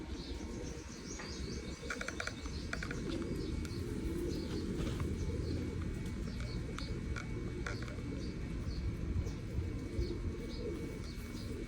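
Four pigeons newly brought from Oman and Dubai coo softly and repeatedly in the background, with scattered light chirps and a faint flutter, and no one speaks.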